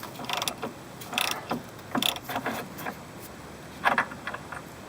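A wrench loosens a motor mount bolt on a car while a jack takes the engine's weight, giving faint, intermittent ratcheting clicks in short bursts of metal-on-metal mechanism noise.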